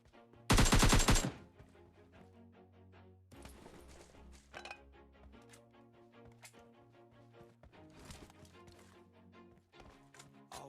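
Gunfire rings out in a PUBG Lite match, opening with a loud burst of shots followed by scattered quieter rapid cracks and repeated shots over background game music.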